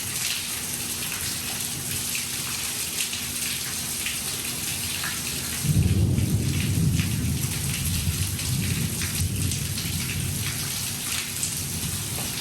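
Steady summer rain patters on surfaces throughout, and partway in a deep, close thunder roll swells up under the downpour and rumbles on.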